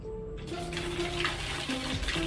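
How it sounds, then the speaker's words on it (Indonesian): Water runs steadily from a tap at a glamping site, a soft continuous gush that starts abruptly and stays fairly quiet throughout. "Tapi lama-kelamaan airnya bakal hangat mengikuti ritme flow air yang keluar."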